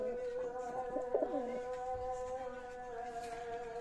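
Several Pakistani high-flying Teddy pigeons coo steadily in a loft, soft repeated throaty calls close by over a constant background hum, with no voices.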